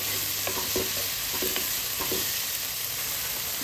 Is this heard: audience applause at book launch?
no